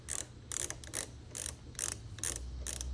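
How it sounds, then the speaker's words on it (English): A screwdriver tightens a window AC bracket: a series of about seven sharp ratcheting clicks in quick, even bursts, close and fairly quiet, with no talk. "Then you tighten it up with your screwdriver."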